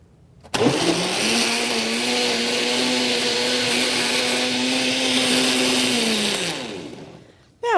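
A blender whirs steadily for about six seconds, blending tofu, frozen strawberries and 7-Up into a party drink, loud and close, starting abruptly and winding down at the end.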